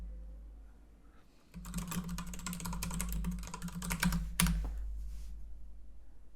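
Brisk typing on a computer keyboard, a quick run of close clicking keystrokes ending in a few louder strikes, heard alone over faint room hum.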